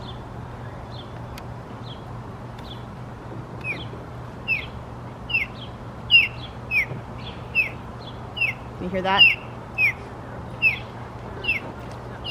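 Ospreys on the Willamette River call in a run of repeated high, sharp chirps, loud and fairly close, coming in rhythmic bursts over a low background hum. A person speaks briefly in the middle.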